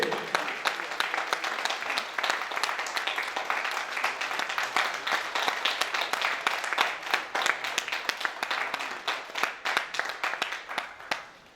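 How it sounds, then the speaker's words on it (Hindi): An audience at an annual media team program in Punjab, Pakistan gives warm applause to welcome a speaker, steady dense clapping that fills the room for over ten seconds before tapering slightly. "भरपूर तालियों में इस्तकबाल कीजिए"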